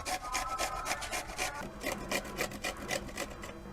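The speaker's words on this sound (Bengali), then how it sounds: "এবার বিটটা কুড়িয়ে নেব।" Raw beetroot is rubbed against a hand grater in quick, even strokes, each one a close, rasping scrape repeating about three times a second, with no one speaking.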